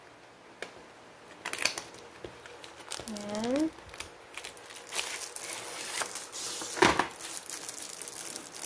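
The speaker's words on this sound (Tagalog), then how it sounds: "So, buksan natin yung isang keyboard pad." Plastic packaging around a squishy keyboard pad crinkles and rustles in scattered bursts as it is opened, with someone talking over the handling throughout.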